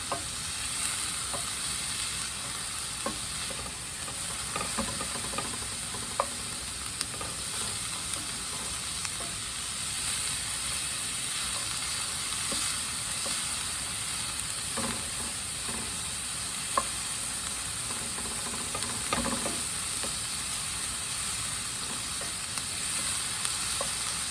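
Sicilian greens cook in a large pot, maybe a Dutch oven or cast iron, with a continuous close sizzle and hiss, dotted with small crackles and pops throughout, with no talk.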